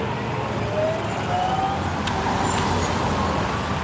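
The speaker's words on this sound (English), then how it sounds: "Our weird spaceship buses that make weird noises." A city bus passes in steady roadway traffic, its whine rising into a few thin high tones over a continuous low engine rumble, fairly loud and close.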